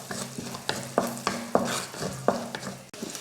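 About five or six cloves of finely chopped garlic sautéing in hot oil, a low sizzle punctuated by regular sharp scrapes of a spatula against the pan, roughly every half second, close up with no talking.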